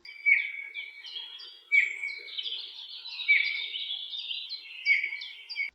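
Eurasian bullfinches calling in a series of clear, fairly near chirps and short whistled notes, repeated every second or so with no voices present.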